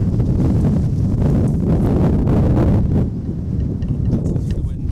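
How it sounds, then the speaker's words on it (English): Wind blows across a hillside near chalk pits, buffeting the microphone with loud, rough rumbling gusts that ease slightly near the end. "This is the wind."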